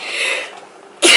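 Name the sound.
sneeze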